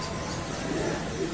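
Allahabadi desi pigeons at a pigeon market give a soft, continuous cooing chorus amid crowd noise, steady and moderately faint throughout.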